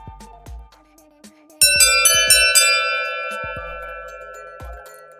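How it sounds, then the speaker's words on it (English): A school bell rings out loud and bright with a series of struck metallic dings, then its tone slowly rings on and fades, following some quiet tapping and ticking. "The bell is ringing."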